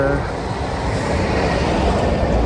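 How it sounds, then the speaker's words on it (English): Heavy lorries roll past on a town road beside a walker, making a loud, continuous low rumble of engines and tyres that holds steady throughout with no voices. "walk next to the noisy lorries"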